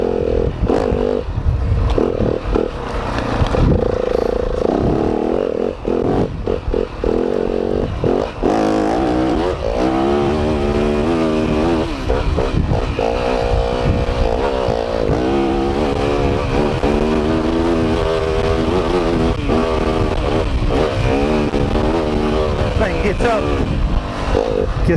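Dirt bike motorcycle engine revving and running continuously while riding home trails, loud and close throughout with rising and falling throttle, and a voice talks over it at times.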